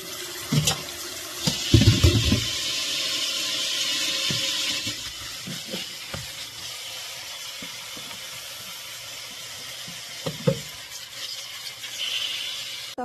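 Dandelion greens are rinsed under a running kitchen tap, a steady hiss of water broken by splashing and handling thumps, close by with no voices.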